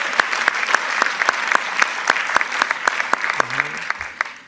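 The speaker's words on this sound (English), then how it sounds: "Let's have a round of applause for our judges" Audience applause for the judges at a startup showcase evening, steady and fairly loud, with sharp individual claps standing out across the whole stretch and a brief voice near the end.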